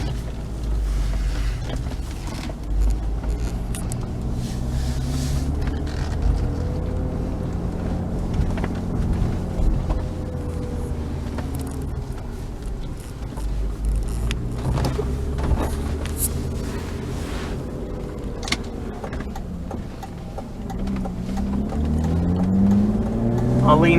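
1995 BMW 325i with an inline-six engine on the move, a continuous engine and road drone with rising and falling tones as it accelerates and shifts, under wind buffeting and someone talking.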